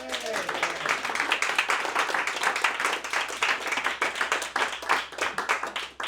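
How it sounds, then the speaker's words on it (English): An audience at a poetry book launch applauds with dense, sustained clapping that fills the room from start to finish, with a voice briefly audible at the very beginning. "And I think that deserves a round of applause."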